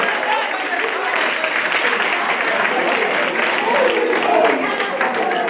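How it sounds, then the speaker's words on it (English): Sustained audience applause at a student leadership campaign event, steady dense clapping from a crowd lasting throughout at fairly even loudness. "A round of applause, please."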